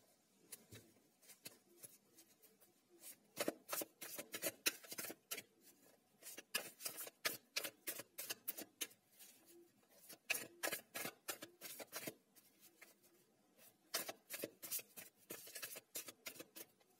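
Tarot cards being shuffled by hand, a quiet close series of rapid papery riffles and flicks in irregular bursts, with no talking.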